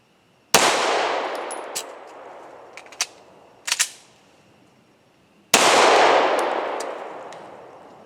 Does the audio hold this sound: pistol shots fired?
yes